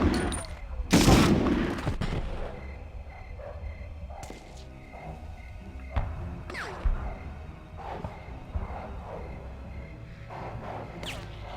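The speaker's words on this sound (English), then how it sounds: "Someone is shooting." Scattered gunshots in the World War II shooter Medal of Honor, a loud burst near the start followed by sporadic fainter shots and cracks at varying distances over a steady background.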